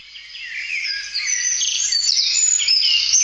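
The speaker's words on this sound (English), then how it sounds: "Bird song," Bright, busy bird song with overlapping chirps and trills, steady and fairly close, with no voices.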